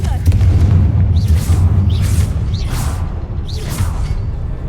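A Confringo fire-blast spell is cast in the Hogwarts Legacy video game, giving repeated whooshing bursts and booms over a steady, loud low rumble, about four fiery swishes in quick succession.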